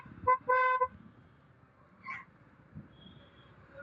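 Two short toots followed by a longer honk from a vehicle horn on a street, loud and close, then faint background traffic noise with a few quieter bursts.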